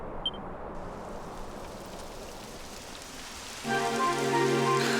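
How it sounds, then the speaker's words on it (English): Steady rain patters on a surface in the video game Dragon Quest XI, a soft continuous hiss, joined near the end by a brighter sustained tone layered over the downpour. "It would have to go and start raining, wouldn't it?"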